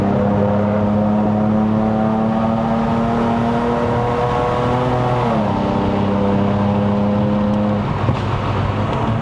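Lexus RC350 V6 Luxury pulling hard on the Genting uphill run in Malaysia, heard from inside the cabin: a loud, steady engine drone with a brief dip and shift in pitch midway, then holding strong.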